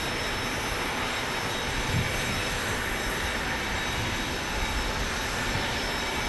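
A Contour Airlines Embraer E-135 jet at Phoenix Sky Harbor airport gives a steady, broad roar of engine noise that holds at an even level throughout.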